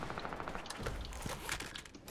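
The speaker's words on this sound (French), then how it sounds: "Ça tire de partout." Dense, overlapping gunfire crackles on every side in a Fortnite match, with bursts of automatic fire and scattered single shots layered into a continuous chaotic barrage at mid distance.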